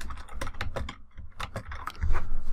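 Rapid typing on a computer keyboard while entering text in Affinity Photo, a dense run of loud, close clicks in quick bursts with a short pause midway, no speech.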